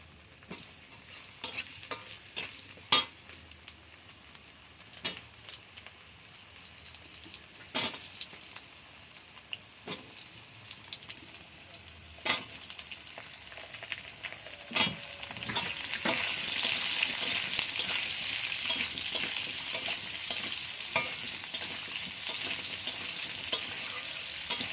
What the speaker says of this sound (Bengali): সবার আগে আলুগুলো দিয়ে দেব,